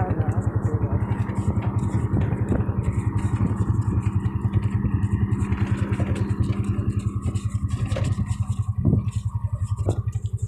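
A motorcycle engine runs at a coal mine site with a steady, rapid, throbbing putter and some clatter, loud and close throughout.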